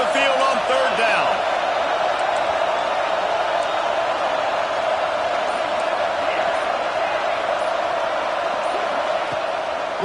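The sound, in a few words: home crowd cheering at football game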